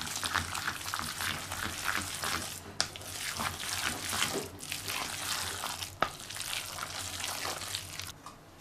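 Chopped green beans stirred into a dumpling filling: a continuous wet, rustling mix with a couple of sharp clacks against the bowl, no talking.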